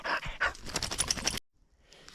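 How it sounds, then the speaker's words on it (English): A dog pants rapidly and loudly close by while running back outdoors on a forest trail, the quick breaths cutting off abruptly before a faint quiet stretch. "Here she comes. Good dog, Bella."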